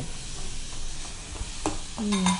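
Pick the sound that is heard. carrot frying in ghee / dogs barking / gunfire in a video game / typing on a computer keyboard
carrot frying in ghee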